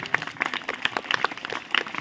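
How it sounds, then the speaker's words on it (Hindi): An audience at a communication skills talk claps in a dense, continuous patter of many hands, moderately loud and close throughout. "ताली बजे ताली बजे तुरंत"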